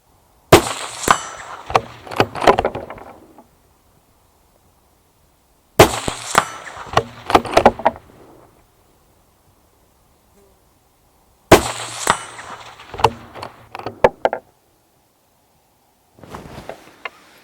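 A Steyr CLII SX Mountain bolt-action rifle in .223 cycles three times, each burst a quick sequence of sharp metallic clacks and rattles as the bolt feeds, extracts and ejects, separated by silence, with a fourth softer sequence at the end.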